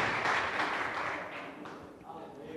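A church congregation applauds together, a dense wash of clapping that stays loud through most of the moment, then thins slightly near the end with a murmur of voices underneath.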